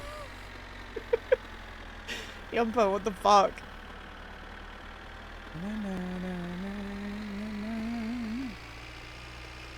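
Kekmet tractor engine in the video game My Winter Car revving high: a steady, droning tone that climbs slightly and holds for about three seconds, following a short burst of voices talking.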